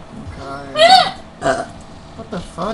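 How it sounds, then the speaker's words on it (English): A person lets out a sound that is a burp and a hiccup at once, a short loud croak with a sharp rising pitch, followed by a few smaller bursts close to the microphone. "You just like burped and hiccup at the same time."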